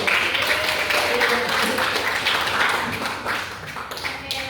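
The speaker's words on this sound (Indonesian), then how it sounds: "Tepuk tangan semuanya." Students in a classroom clap together during a school guidance lesson, brisk close applause that fades slightly toward the end, with some voices mixed in.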